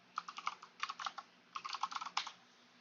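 Quiet bursts of rapid clicking on a computer keyboard, two clusters of quick keystrokes separated by a short pause, with no voices.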